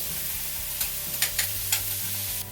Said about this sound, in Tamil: கல் நல்லா சூடானதும் இதிலேருந்து ஒரு கரண்டி எடுத்து அப்படியே நம்ம ஊற்றினோன்னா பாருங்கள் எவ்வளோ அழகாக ஓட்டையாக வருதுன்னு